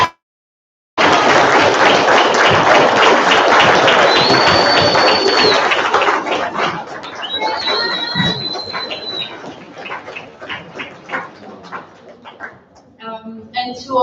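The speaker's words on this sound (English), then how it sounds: "just give them a big round of applause" Graduation ceremony crowd gives a big round of applause for loved ones and tutors, loud dense clapping with a few whoops, gradually fading into scattered claps before speech resumes.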